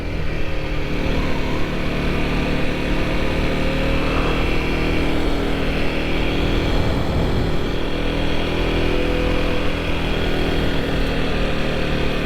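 A Kawasaki KLX 300 supermoto motorcycle being ridden, its engine droning steadily and loudly throughout with wind and road noise and no clear pauses.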